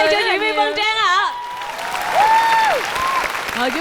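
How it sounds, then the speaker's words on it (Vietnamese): A studio audience in a Vietnamese TV competition show applauds with a loud, sustained wash of clapping. A voice speaks or sings over it throughout. "Một tràng pháo tay cho diễn viên Vân Trang ạ."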